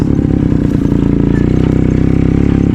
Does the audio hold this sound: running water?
no